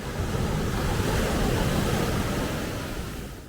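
Ocean surf breaks on the beach at Ocean City, a steady, loud roar of waves with wind buffeting the microphone, slowly easing toward the end, with no voices.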